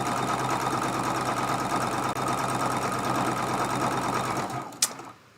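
A sewing machine stitches a seam on a Dresden Plate quilt block made from charm pack fabric, running in a fast steady whir close by for several seconds before stopping with a brief clack.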